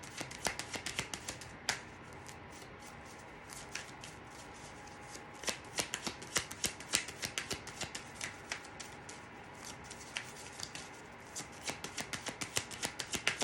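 A deck of playing cards is shuffled repeatedly by hand in a tarot-style reading, with crisp riffling bursts and soft snaps recurring throughout, close and fairly quiet, with no voices.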